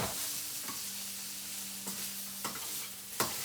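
Squash flowers fry in a pan, giving a steady close sizzle with a faint hum underneath and several sharp spatula scrapes spaced a second or so apart; no talking.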